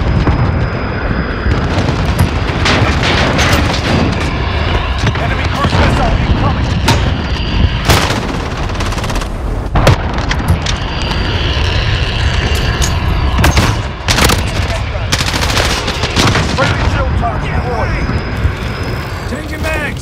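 Heavy gunfire and booming explosions fill a loud video game battle in Cheshire Park, dense and continuous with overlapping blasts, while voices call out over the din.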